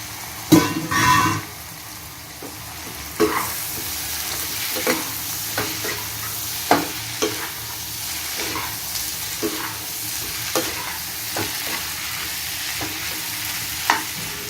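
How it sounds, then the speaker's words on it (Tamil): Chopped ivy gourd stir-fries with masala in a pan, a moderate steady sizzle punctuated by regular spatula scrapes and knocks, with a clatter early as the pieces go in. "இப்போ நம்ம கட் பண்ணி வச்சுருக்க கோவக்காவை ஆட் பண்ணிக்கலாம்"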